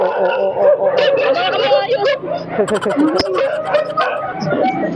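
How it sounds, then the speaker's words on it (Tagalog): A dog barks and yips excitedly near a moving taxi, the sharp barks mixed in with people talking and laughing. "Aso namin yun. Kaya pala nagwawala, nakakita ng aso."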